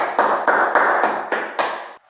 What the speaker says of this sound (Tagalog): Bigyan nyo ang inyong mga sarili ng palakpak.